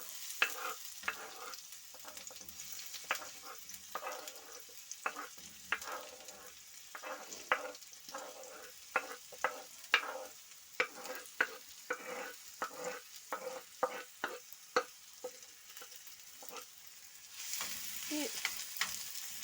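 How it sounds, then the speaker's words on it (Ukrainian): Steady sizzling of onions frying in lard, with frequent sharp clacks of a utensil stirring the pan throughout, growing louder near the end. "смажимо до золотистого кольору"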